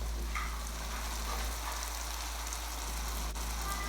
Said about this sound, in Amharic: እንደዚህ አድርገን ለ3 ደቂቃ ያክል በደንብ አድርገን እንጠብሰዋለን።